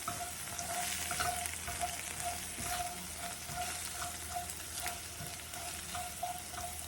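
Scrambled eggs seasoned with pepper fry in a pan, giving a steady close sizzle with small stirring and tossing noises, with no talking.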